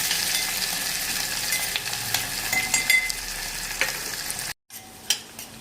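Chopped onion frying in a pan for a village-style moong dal, a steady close sizzle broken by scraping stirs, with a short gap near the end before the frying resumes.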